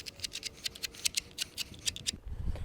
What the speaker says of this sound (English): we're just gonna trace it out